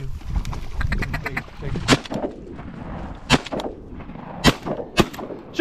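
Shotgun blasts at mallard ducks during an ice-covered duck hunt, a few loud separate booms spread over several seconds after a stretch of rapid quacking and hunters' voices.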